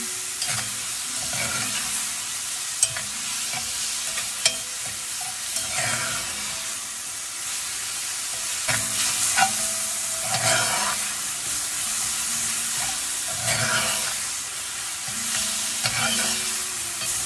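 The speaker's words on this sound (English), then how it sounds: "We're going to cook these tomatoes down till it becomes soft and somewhat mushy." Tomatoes cook down in a pan for a roasted eggplant dish, with a steady hiss and sizzle and regular rhythmic scraping strokes of a spatula stirring throughout.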